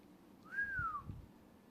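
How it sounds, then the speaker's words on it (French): A single short, faint whistled note that rises and then slides downward, from a player whistling under pressure while playing a game, with quiet low rumbling behind. "Désolé si je siffle des fois"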